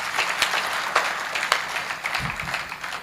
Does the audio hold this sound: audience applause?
yes